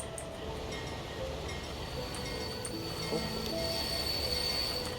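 In the Transport Fever 2 video game, a freight train engine rolls past with a steady, fairly quiet rail rumble and faint metallic wheel squeals and clinks.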